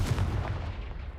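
A Confringo blasting spell explodes in Hogwarts Legacy with a single loud, booming blast that fades over about a second.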